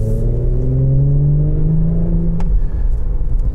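A 2017 Audi S5 Sportback's V6 engine drones steadily from inside the cabin while driving, with smooth rising tonal harmonics that drop away to a lower, rougher rumble near the end.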